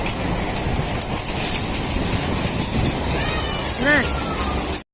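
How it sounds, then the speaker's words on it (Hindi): A local train passes outside, its steady rumble and rail clatter filling the scene loudly, with a brief wheel squeal near the end before it cuts off abruptly; voices can be heard talking over it. "लोकल ट्रेन है बाहर"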